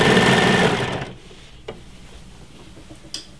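An overlocker sews a seam in fabric with a loud, fast, even mechanical whir for about a second. It then stops, leaving quiet room tone and a couple of faint clicks.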